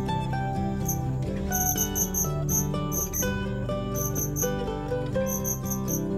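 Crickets kept in a semi-dry pond enclosure chirp in rapid, high pulsing bursts over a steady musical backdrop, the trills repeating in short clusters.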